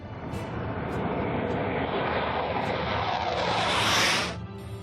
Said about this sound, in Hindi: मिग-29 एयरक्राफ्ट की दहाड़ सुनो चीन